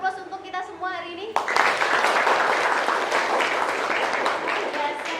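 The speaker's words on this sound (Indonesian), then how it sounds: "Kita kasih aplaus untuk kita semua hari ini." A group in a teacher coaching session breaks into sustained clapping that fills the room after a single voice speaks briefly, then carries on steadily to the end.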